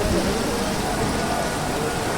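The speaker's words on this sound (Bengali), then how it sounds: "যে পরিমাণে বৃষ্টি সেই পরিমাণে বাতাস।" Heavy rain driven by strong wind pours down in a steady, dense roar over a street where people are stranded without rickshaws or vehicles. The broad wash of sound stays constant throughout, with no clear talk.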